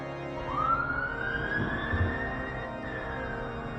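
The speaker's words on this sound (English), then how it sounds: "Sirens outside." A siren in Final Fantasy XIV rises and holds a long wailing tone, loud and steady over a low rumbling background.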